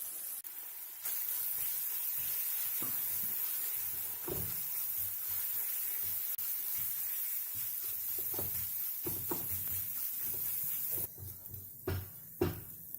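Moong dal paste with cauliflower and spices sizzles softly in a pan, broken by intermittent spatula scrapes and knocks against the pan.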